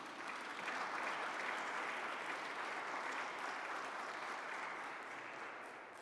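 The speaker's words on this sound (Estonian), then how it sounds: "Võime plaksutada." Steady applause fills a hall at a songbook conference as the audience claps for the songbook committee, a dense, even patter that holds for several seconds at a modest, somewhat distant level before easing slightly.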